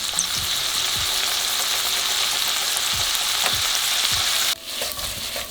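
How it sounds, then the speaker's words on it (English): Seasoned shrimp fry in a hot pan with a steady, loud, dense sizzle that carries on without pause, broken by a few soft clacks of stirring and a brief drop near the end. "Return the pan to the heat and add your seasoned shrimp, cooking until just pink and opaque."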